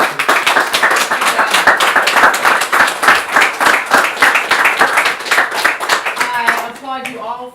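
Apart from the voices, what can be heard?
audience applause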